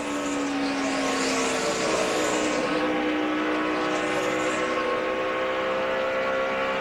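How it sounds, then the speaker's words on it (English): A NASCAR stock car engine at the 2009 All-Star Race drones steadily at high revs, its pitch sliding up and down a few times, with no talking. "I think that's the engine we're listening to."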